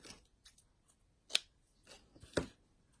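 Scissors snip through red cotton ribbon while a bow is being made for a handmade Christmas card; two crisp close cuts stand out between faint handling rustles, with no talking.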